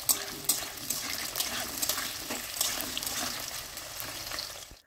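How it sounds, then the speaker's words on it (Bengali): Potatoes fry in well-heated refined oil for a mixed-vegetable dish, a soft, even hiss with a few sharper crackles, fairly faint and fading at the end. "তেলের মধ্যে প্রথমে আলুগুলো ভেজে নেব।"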